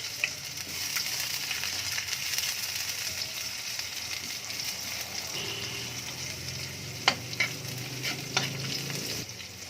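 Garlic and onion being stirred as they sauté in a pan, a steady low sizzle with scraping strokes and a few sharp utensil clicks near the end, no voices.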